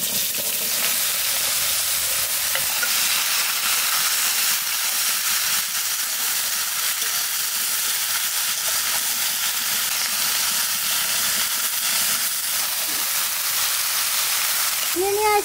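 Bottle gourd pieces added to hot oil left from frying hilsa, giving a loud, steady hiss and sizzle up close that holds evenly with faint stirring, a few soft voices in the background.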